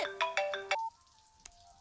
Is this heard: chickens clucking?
no